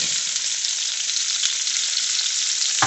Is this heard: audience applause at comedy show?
no